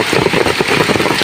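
Steady rain falls outdoors during mushroom foraging, a dense, continuous hiss with faint rhythmic low patter throughout and no voices.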